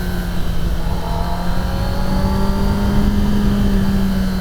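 A 2024 Kawasaki Ninja ZX-10R at full throttle, its engine note climbing steadily in a loud, continuous rising whine with rushing wind, close and sustained throughout.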